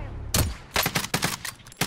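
Gunfire in a battle royale video game on high ground, a few sharp, loud shots spaced apart in quick succession.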